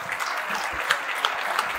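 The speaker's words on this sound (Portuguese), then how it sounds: "Palmas pra ela." Studio audience applauding as a female guest walks onto the stage of a Brazilian talk show, a steady wash of clapping with a few louder nearby claps.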